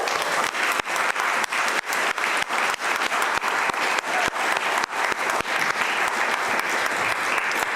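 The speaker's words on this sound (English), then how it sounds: "Again, big round of applause to Katrina." An audience at an annual meeting gives a round of applause for Katrina, and the clapping is steady and dense. It sounds fairly near and carries on without a break, with no voices over it.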